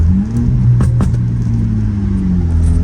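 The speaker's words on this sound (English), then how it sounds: "Give y'all a couple revs." A car engine with a straight-piped exhaust rumbles loudly nearby with a low, steady drone, its pitch rising and falling slightly as it is revved.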